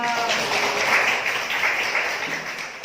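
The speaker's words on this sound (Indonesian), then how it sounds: "Tepuk tangan untuk kita semua." Students in an Indonesian school classroom clap together during a morning lesson. The applause is a dense, steady patter that runs the whole stretch, mixed with voices.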